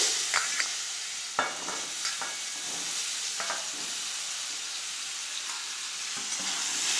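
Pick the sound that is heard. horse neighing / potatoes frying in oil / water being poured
potatoes frying in oil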